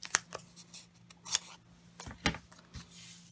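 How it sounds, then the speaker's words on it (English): Scissors cutting sticker paper give a few sharp, separate snips with quiet gaps between them, close and clear, with no talk. "I just cut some sticker paper off,"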